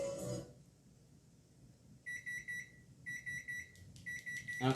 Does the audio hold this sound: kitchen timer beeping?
yes